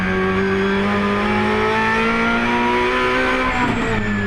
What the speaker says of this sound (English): as the Ferrari locks up, really missing that ABS